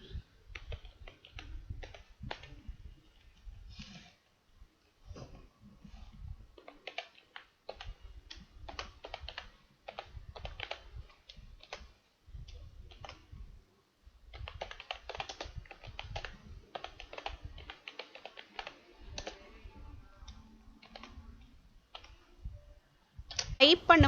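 Steady bursts of typing on a computer keyboard while Python code is entered, close and fairly quiet, with uneven clatter and short pauses between runs of keystrokes.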